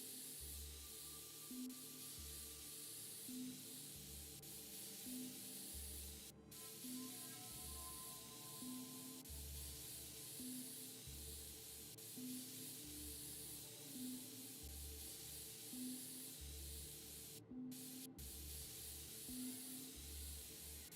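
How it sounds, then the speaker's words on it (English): Compressed air hisses steadily as it is sprayed over computer parts to clean them, a continuous close-up rush with a soft rhythmic pulsing running beneath it and a couple of brief sharper bursts. "Compressed air."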